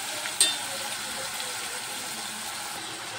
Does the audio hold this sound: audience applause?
no